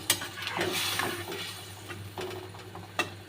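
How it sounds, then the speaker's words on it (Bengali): Pomfret fish in a mustard and poppy seed curry is stirred in a pan, with soft wet scraping and a couple of light clinks against the metal, quiet and close. "এবার একটু নেড়ে দেবো"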